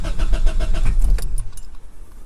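A 1997–2002 Honda Accord with a faulty fuel pump relay cranks without firing, a rapid rhythmic starter churn for about a second before it stops and fades out.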